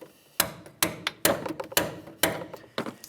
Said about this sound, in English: we're going to continue on with our hammer, and I'm just going to try to give this a couple loving bonks